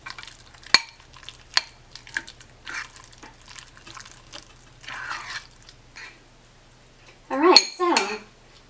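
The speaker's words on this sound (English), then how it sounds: "Just going to mix that all together." Lemon zest being mixed with ricotta in a bowl, giving sparse clinks and scrapes of a utensil against the dish, with a louder burst of stirring near the end; otherwise quiet.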